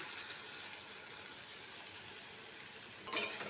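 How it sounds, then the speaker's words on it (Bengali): Grated potatoes hitting hot mustard oil in a heated wok, giving a steady broad sizzle that holds evenly throughout, with a brief brighter crackle near the end. "এবার তেলটা গরম হলে গ্রেট করা আলুগুলো দিয়ে দিচ্ছি"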